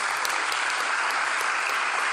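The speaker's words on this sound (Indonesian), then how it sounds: "Tepuk tangan buat Asael." An audience at a church service claps for a 13-year-old boy, a steady, loud, dense round of applause throughout with no talk over it.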